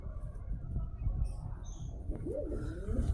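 A pair of pet pigeons coo softly over a low background rumble, with a short rising-and-falling coo near the end and a few faint high chirps scattered across the moment.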